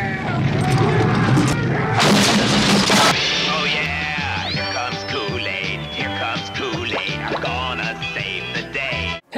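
A dynamite explosion from the 1982 film The Thing bursts out as a loud, broad blast lasting about a second amid chaotic noise, then gives way to a swelling film score.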